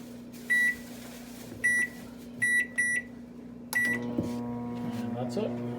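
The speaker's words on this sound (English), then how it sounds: "So next, we just have to put this in the microwave, like so, 15 minutes and you're all set." Microwave oven being set for donair cooking: a handful of short, clear keypad beeps, then a click as it starts and a steady low hum of the running oven underneath.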